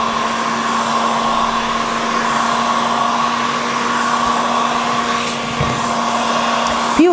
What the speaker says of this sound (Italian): va benissimo un phon per capelli caldo